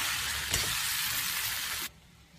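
Jackfruit and fried potatoes sizzling with spices in a pan, a close, steady crackle with a brief stirring scrape, ending suddenly.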